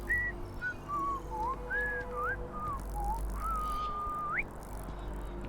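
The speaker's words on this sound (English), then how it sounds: "Alright, just whistles at me." A character in the video game Starfield whistles a lilting melody of rising and falling notes, loud and close, ending on a sharp upward sweep, over a low ambient hum with no talking.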